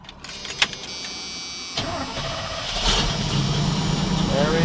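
A V8 car engine idles, then its steady, close hum rises and thickens as the engine is revved during a tachometer test.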